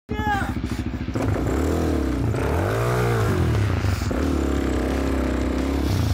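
A CRF300L-based XR301 supermoto bike fires up on a track, its single-cylinder engine chugging then revving up and down loudly close by, a steady mechanical drone throughout.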